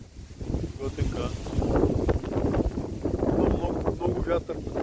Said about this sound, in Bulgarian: Много вятър.